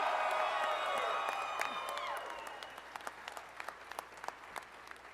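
A crowd applauds with some cheering at a Georgia governor's election victory speech, loud at first and then thinning to scattered claps as it dies down.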